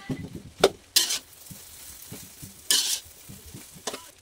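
Chow fun noodles mixed with rice are stirred in a pan, a quiet sizzle under several sharp bursts of spatula scraping, with two loud scrapes standing out near and clear.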